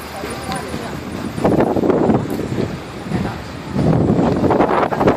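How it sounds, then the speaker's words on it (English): Steady wind buffeting a microphone outdoors in Shanghai, a constant low rumble that surges louder in gusts, with no voices. "Just so you know, Shanghai is windy."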